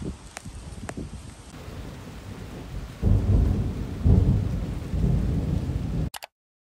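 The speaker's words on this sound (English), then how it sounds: "Lily, it's already raining." Steady rain and rumbling thunder in the mountains, with a continuous wash of rainfall that swells louder partway through and low thunder rolls underneath, no voices, ending abruptly.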